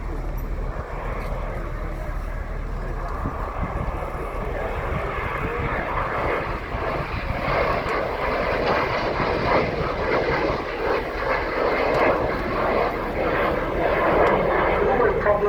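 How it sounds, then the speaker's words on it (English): A Messerschmitt Me 262 jet fighter roars past in a display flypast at RIAT 2023, its engine noise building steadily over fifteen seconds, with a voice talking over it. "In for its first pass, the remarkable shape of the ME262."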